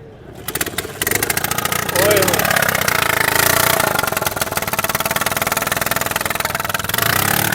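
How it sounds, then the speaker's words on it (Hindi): A used motorcycle engine at a Karachi street bazaar cranks and catches, then settles into a loud, steady chugging idle close by, with a voice briefly exclaiming over it. "भाई इंजन की आवाज़ सुना रहे हैं"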